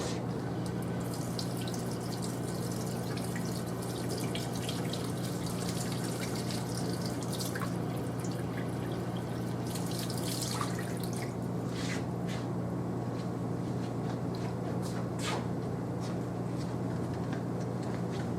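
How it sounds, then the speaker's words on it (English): Running water streams steadily over a metallographic polishing plate during rinsing, a constant broadband splash with occasional sharper drips and spatters, close and continuous with no talking. "rinse this plate out with water."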